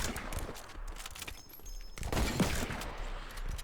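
Gunfire in the video game Fortnite, a few quick bursts of shots with sharp clicks and rattles, fairly faint against game ambience, no talking.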